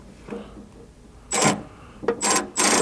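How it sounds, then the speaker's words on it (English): Metallic ratcheting of a 3/8 wrench or socket tightening a nut on a JK Wrangler tailgate table mount comes in three bright bursts in the second half, after a quiet start. "reach through here and hold the nut while you tighten this up"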